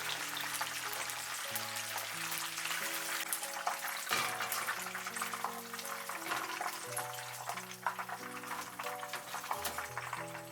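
Cheese-stuffed chicken pieces fry in hot oil with a steady, soft crackling sizzle that runs alone beneath gentle background music.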